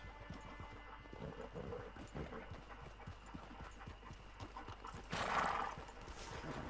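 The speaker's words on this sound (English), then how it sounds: "Get your horse." A horse's hooves clip-clop steadily in Red Dead Redemption 2 Online, followed by a loud neigh near the end.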